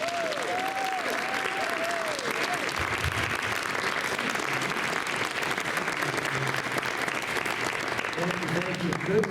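Sustained audience applause welcoming a speaker at a talk, a dense steady patter of many hands clapping throughout, with a few brief voices over it near the start.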